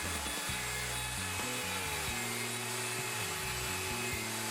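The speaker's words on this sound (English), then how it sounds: "Plunge the router and route the tenon. Start by climb routing clockwise." A plunge router cuts a wood tenon in a Leigh FMT mortise-and-tenon jig: a steady, loud high-pitched motor whine with the pitch dipping and shifting as the bit bites into the wood, heard close and alone.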